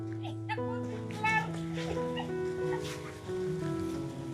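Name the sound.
dog whimpering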